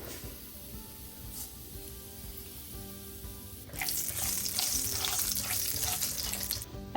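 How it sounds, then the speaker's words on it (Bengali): About a teaspoon of black cumin seeds hits hot mustard oil and erupts into a loud, steady sizzle that starts abruptly midway after a quiet stretch. "এখন এখানে দিচ্ছি ছোট 1 চামচ কালো জিরা ফোড়ন।"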